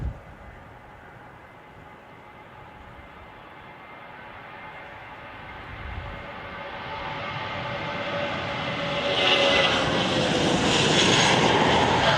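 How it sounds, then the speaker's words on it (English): A Jetstar jet taking off at a windy Wellington Airport, heard from a distance as a low rumble that swells steadily into a loud, whining engine roar. "Jetstar 258 heading off up to Auckland."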